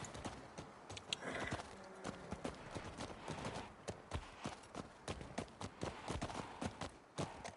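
A horse's rapid hooves clip-clop steadily on a hard surface in the video game The Last of Us Part II, loud and close, with a brief snort or whinny mixed in.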